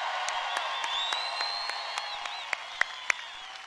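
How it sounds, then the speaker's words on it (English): Crowd applauding at a Mitt Romney campaign rally in Defiance, Ohio, dense sustained clapping with scattered louder individual claps and faint whoops, moderately loud and filling the space. "Let's give them a big round of applause for helping Mitt."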